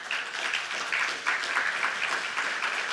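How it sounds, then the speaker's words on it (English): Steady applause from a conference audience at a HarvardXR 2025 talk fills the room, dense continuous clapping at moderate loudness with no voices over it. "Give them a big round of applause."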